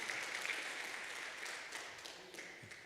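A congregation claps during a Sunday church service, producing a faint, even wash of applause that slowly tapers off.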